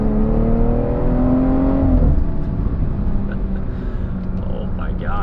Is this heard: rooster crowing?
no